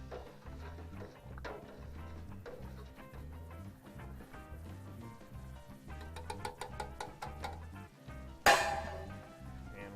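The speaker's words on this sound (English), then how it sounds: "So just stir this up well. Make sure that the powdered ingredients are dissolved." Homemade laundry detergent is stirred in a pot on the stove, a spoon scraping and clinking rhythmically against the pot's sides, fairly faint and close, ending with a sharper knock.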